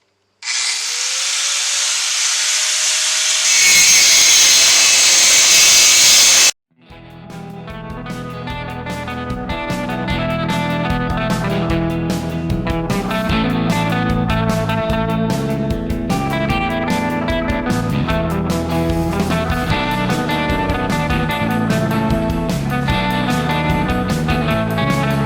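Power cutting tool slicing off bolts on the front clip of a 1965 Ford F100 truck, a loud harsh whine for several seconds, a short break, then a long sustained grinding buzz.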